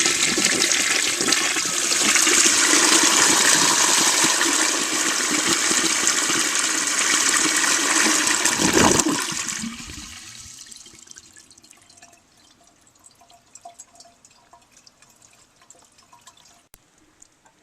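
A 1936 Standard Modernus toilet flushes loudly for about nine seconds with a strong rushing wash of water, then drops off suddenly into a quiet refill trickle with faint drips.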